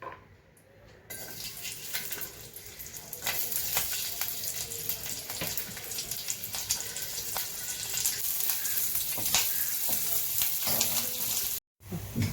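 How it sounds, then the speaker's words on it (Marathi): Garlic frying in a spoonful of oil in a pan: a loud crackling sizzle builds up after a quiet start and holds steady close to the mic, with faint scraping and stirring, then breaks off briefly near the end. "आता आपण हे चमचाभर तेल घालूया आणि थोडासा लसूण परतून घेऊया तेलावरती"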